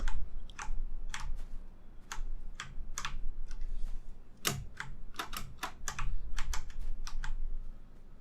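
Computer keyboard direction keys click in quick bursts while the game Inside is played, crisp close keystrokes in irregular clusters with short pauses between them, no voices over the tapping.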